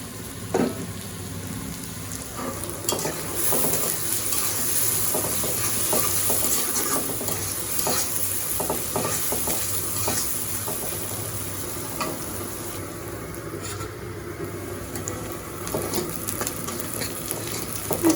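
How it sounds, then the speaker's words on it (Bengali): Onion, garlic and green chilli frying in a pan in a village kitchen, a steady close sizzle running throughout with frequent scraping stir strokes and occasional clinks of the spatula. "পেঁয়াজ রসুন কাঁচামরিচ ভাজা হয়ে গেছে।"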